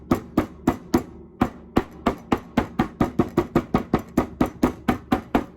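Beef strips are pounded flat for homemade jerky. Roughly two dozen sharp, loud thuds land close by in a fast, even rhythm, with a brief pause near the start.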